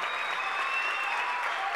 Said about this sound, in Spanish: Fuerte el aplauso para Willy Tertulia.